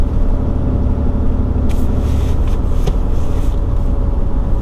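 Ram HD pickup truck with air suspension driving over road bumps, heard from inside the cab as a loud steady low rumble with a few brief thumps and rattles.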